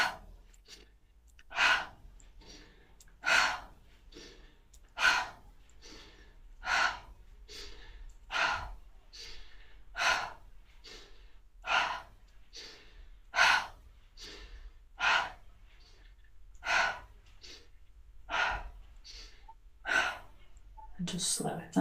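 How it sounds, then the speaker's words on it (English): Slow, deep breathing during a qigong exercise: a long series of regular inhales and exhales, each breath a soft airy swell, close to the mic in a quiet room. "So we can inhale and exhale to let some tension out."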